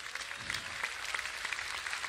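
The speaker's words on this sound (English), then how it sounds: "we just want to please give each one of these men a round of applause" Audience applause at the Java Jazz Festival 2014 tribute concert, a steady, dense wash of many hands clapping at a moderate distance, with no voices on top.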